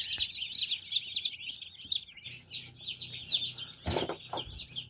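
Many small newly hatched chicks in an incubator peep and chirp continuously in high, rapid calls, with a brief soft rustle or knock partway through and a low hum underneath.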